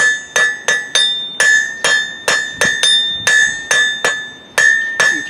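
Blacksmith hammering a taper on hot steel, a steady series of about fourteen bright ringing hammer strikes on the anvil, evenly paced and close, with no talking.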